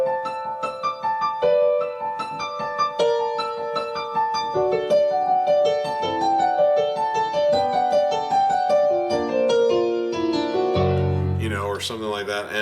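A solo piano plays the intro of a song as heard on its album. Clear melodic lines run over about eleven seconds, ending in a low chord and a final swell, with no talking.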